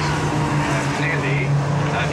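Porsche 924 race cars battle at Brands Hatch in a BRSCC Porsche Championship race, their engines a steady, loud drone throughout with no pauses.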